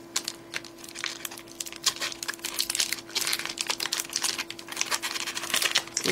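Pokémon card booster packs torn open and handled, with quiet crinkling foil wrappers and soft rustling and crackling close by, no talking.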